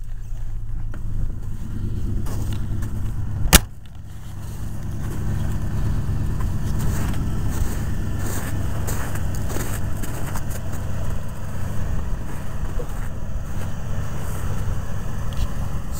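A Jeep Grand Wagoneer engine idles steadily, a low continuous rumble with a brief sharp knock early on. There is no speech.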